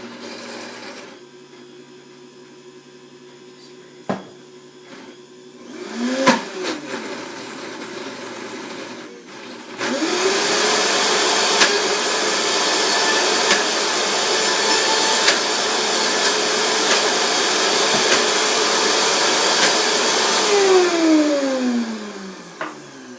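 A blender motor starts briefly, stops, then runs steadily with a loud high whirring roar for several seconds before winding down, while olive oil is added.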